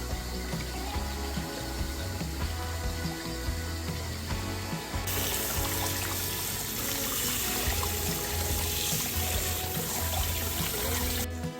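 Tap water runs steadily into a sink while fresh carrots, onion, spring onion and cucumber are washed, a continuous close splashing flow with clattering handling throughout.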